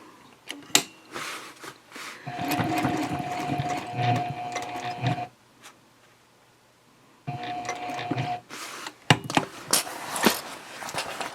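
A sewing machine stitches across a tote bag at a stitch length of 3.0 in two steady whirring runs with a quiet pause between, framed by sharp clicks and handling knocks at the start and end.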